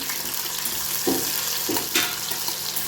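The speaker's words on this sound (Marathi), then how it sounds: "मिरच्या पण छान तडतडू द्यायचं" Green chillies crackle in hot oil with cumin seeds in a small steel pan: a steady broadband sizzle with a few louder bursts of spitting, close by and without voices.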